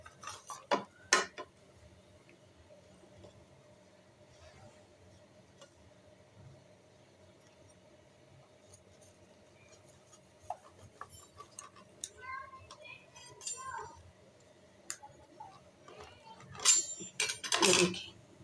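A knife cuts leftover roti on a kitchen surface, giving sparse, sharp clicks and taps near the start and a busier cluster near the end, with long quiet gaps between.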